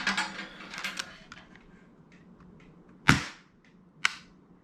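Polarstar Kythera airsoft gun, freshly charged with air, fires two sharp, distinct shots about a second apart, each a crisp mechanical crack after a stretch of quieter trigger handling and clicking.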